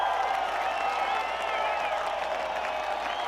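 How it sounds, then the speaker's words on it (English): An audience applauding for Mr. Clown, a children's entertainer, with a steady, sustained wash of clapping and some cheering, moderately loud and continuous throughout. "I was just applauding for myself"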